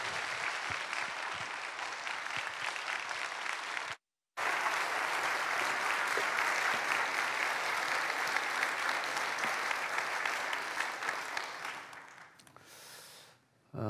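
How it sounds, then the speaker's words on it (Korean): A church audience gives a pastor a loud, sustained round of applause during a revival meeting. It breaks off briefly, resumes at full strength, then fades out near the end. "우리 박수로 환영하도록 하겠습니다."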